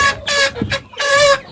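Brahma chickens and turkeys on a small integrated farm cluck in several short, close bursts with brief gaps between calls.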